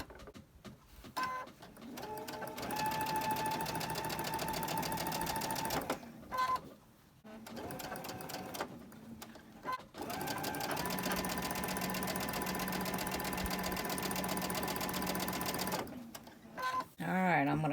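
A sewing machine chain-stitches quilt pieces in several long, close runs of fast rhythmic whirring, separated by short pauses with clicks and fabric handling.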